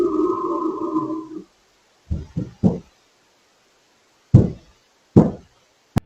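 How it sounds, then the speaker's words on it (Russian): Knocking on a basement door: several dull, separate thuds in uneven clusters, with a low growling rumble beforehand and silence between the blows. "После этого снова слышны звуки рычания и стука по двери."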